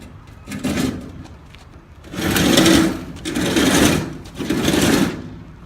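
A battery-powered Sawzall reciprocating saw cutting through scrap metal, loud and close, in three sustained bursts of buzzing, rattling cutting separated by short pauses, with no talking over it.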